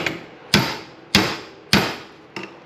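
Four sharp metallic blows from a 4-pound sledgehammer on a steel punch during an RB26 engine individual-throttle-body teardown, evenly spaced about half a second apart with ringing decay, the last one lighter.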